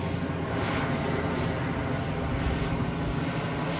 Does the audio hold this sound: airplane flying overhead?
yes